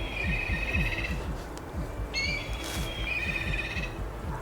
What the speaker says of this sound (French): vous entendez l'oiseau derrière moi?